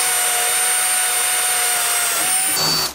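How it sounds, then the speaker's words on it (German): A handheld power drill bores holes through 5 mm steel without a drill press, a steady loud high whine held close for several seconds before spinning down at the end. "Und jetzt haben wir unsere Löcher auch gebohrt"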